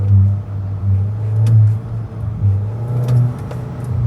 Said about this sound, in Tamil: அந்த கியர் ஷிஃப்ட் ஆகிற சவுண்டு ஃபீல் பண்ண முடியுது